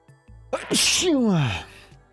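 A single loud, close sneeze with a sharp intake of breath before it, alone in a quiet room.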